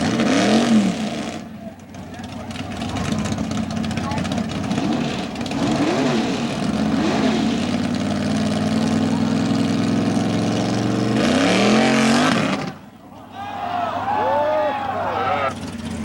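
A mud bog truck at a Plymouth mud bog, Super Stock class, powered by a big-block Oldsmobile engine, revs loudly and steadily for most of the run, dropping briefly near the end before roaring again, with a commentator talking over it.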